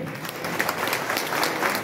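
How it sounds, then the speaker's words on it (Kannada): Loud, dense applause from an audience at the inauguration of a new RTO office building, a steady burst of many hands clapping with no pause. "ಜೋರಾಗಿ ಚಪ್ಪಾಳೆ ಬರಲಿ."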